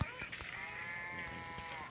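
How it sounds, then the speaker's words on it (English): A cow in Minecraft Pocket Edition gives a steady, sustained bleating moo, fairly faint, with a few soft clicks and no talking over it. "Hello, cow. Would you like to be dinner tomorrow?"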